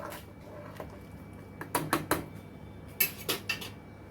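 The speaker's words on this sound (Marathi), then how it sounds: "मध्ये मध्ये सतत असं हलवत राहायचं कारण बाजरी तळाशी लागते" A metal spoon scrapes and clinks against a pan of millet khichdi in two short clusters of sharp knocks over a low, steady background hum.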